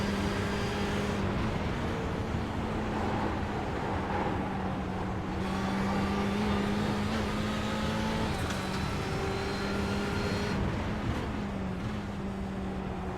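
An onboard race car engine at Sebring in a racing game, a loud sustained drone with pitch rising and falling through gear changes and corners, continuous and close with no talk over it.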